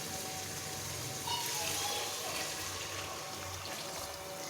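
Water poured into a cooking pot of fried chicken pieces and lentils for daal murgh, a steady broad gushing pour close by, with no talking over it.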